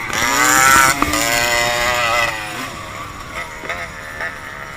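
A two-stroke dirt bike engine at a hare scramble race revs loudly nearby, its pitch rising and falling before fading, with people talking over it.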